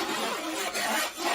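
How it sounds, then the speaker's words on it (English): Metal spoon scraping and stirring through a lemon garlic mustard sauce in a pan for Greek-style baked pork chops, a steady close rasping rub with brief dips, no talk. "That's the noise of my spoon."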